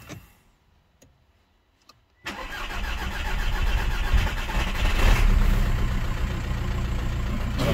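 After some quiet clicks, a VW Polo TDI 130 diesel with newly replaced pump injectors cranks and catches, then settles into a loud, steady idle that clatters close by with no talking.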